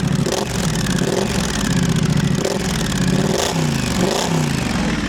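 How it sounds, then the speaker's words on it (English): A motorcycle engine revs repeatedly, its exhaust rising and falling in loud, rough bursts with crackling pops, close up and continuous throughout. "this one has like that pop, that aggressive pop of the exhaust"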